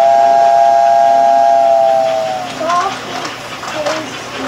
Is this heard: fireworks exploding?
no